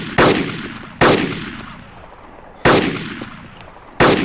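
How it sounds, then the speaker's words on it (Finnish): Four loud, sharp gunshots ring out in DayZ, irregularly spaced with each crack trailing off into a long echoing decay, close and isolated with no talk over them. "Intensiivistä laukausten vaihtoa."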